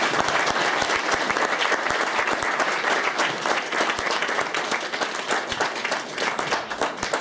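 Dense, steady applause from an awards-ceremony audience honouring women, sustained crowd clapping filling the room with no speech over it.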